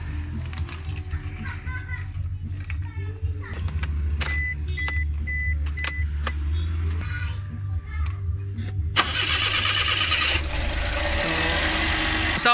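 A Suzuki Every Wagon with a K6A turbo engine, just after fuel injector O-ring repair, cranks several times in short bursts before catching and settling into a rough idle, with children's voices in the background.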